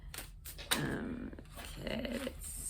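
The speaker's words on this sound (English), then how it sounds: "that's my dog having a little lie down in the background." A dog lying down nearby growls low and rumbling in two drawn-out bursts with some whimpering, fairly close and fairly quiet against a still room, with no one talking.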